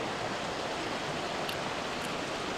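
Creek water runs in Cades Cove in a steady, broadband rush that stays even and continuous throughout, with no voices over it.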